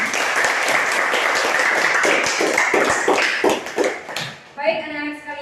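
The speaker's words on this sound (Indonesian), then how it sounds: "Kita beri tepuk tangan untuk Galang." Children applauding a classmate in a school classroom, a dense burst of many small hands clapping together for several seconds, then fading out as an adult voice begins speaking.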